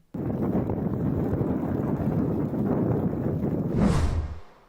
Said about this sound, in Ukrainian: почути потужний антарктичний вітер